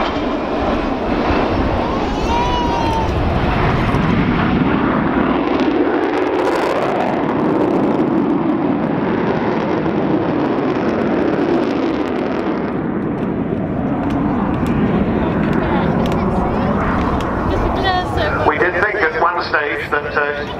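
An Avro Vulcan XH558 jet bomber flies at the RNAS Yeovilton Air Day 2014 air show, its loud, deep engine roar filling the whole stretch steadily and swelling slightly as it passes.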